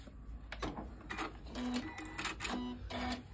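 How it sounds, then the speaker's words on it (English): Home sewing machine with an open toe foot finishing a quilt block seam, several short close bursts of rapid mechanical stitching with brief pauses between, no talk. "And you just finish sewing off."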